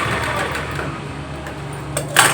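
A sewing machine runs in a steady close whir, stitching a joint seam on a blouse sleeve, ending with a brief sharper mechanical clack; no talk.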